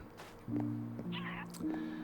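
A Minecraft cat gives a couple of short, tonal meows at moderate distance over faint game ambience.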